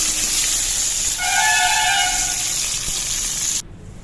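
Curry leaves hit hot oil for tempering, a loud hissing sizzle that swells with a brief sharp surge, holds steady, then cuts off abruptly near the end.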